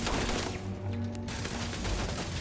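Automated turret gunfire in the Starfield video game, a dense, loud stream of rapid shots that continues almost without break throughout, close and dominant with no talking.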